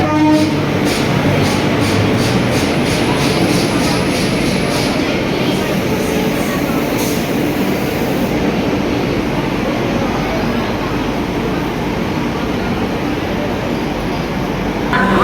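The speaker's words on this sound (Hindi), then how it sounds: "यहाँ पे हम लोग के सामने आ रही है सिक्किम महानंदा एक्सप्रेस" Sikkim Mahananda Express pulling into Kanpur Central station, a loud, steady rumble of rolling carriages and wheels on rails with rhythmic clatter and occasional squeal, continuous and close under crowd noise.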